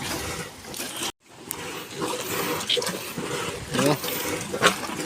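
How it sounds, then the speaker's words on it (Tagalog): Water pumped out of a fishing boat in overcast weather, a continuous rushing, gushing wash with a brief break, close and fairly loud, with voices talking over it. "Binubumbahan natin para maubos itong tubig."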